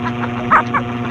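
Dog giving a couple of short, soft yips or barks close by, the second weaker than the first, over a steady low background hum.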